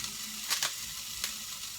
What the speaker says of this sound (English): We've been frying it for about 3 minutes.